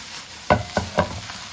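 Noodles with onion and a splash of rice vinegar tossed in a wok, three quick scraping stirs of a spatula over a faint sizzle, close and clear with no one talking.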